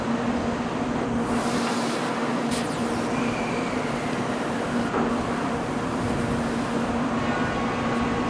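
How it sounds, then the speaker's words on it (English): A train in the Trainz railway simulator rolls steadily into a station, with a continuous loud rumble, a low steady hum and faint squeals over the top, and no talk. "Now arriving on track 5 is the Florida Limited Southbound Express service, train number 449 to Pensacola"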